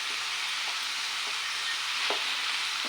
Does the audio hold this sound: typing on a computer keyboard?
no